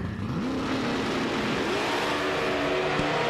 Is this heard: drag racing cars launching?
yes